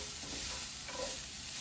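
Rice, garlic and carrots being mixed in a frying pan for vegetarian paella, a soft continuous sizzle and scraping with no voices.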